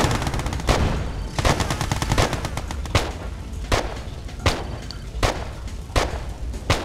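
Units open fire with their weapons in a strategy video game: loud, close bursts of rapid gunfire and sharp repeated shots crackle in an uneven rhythm with no voices.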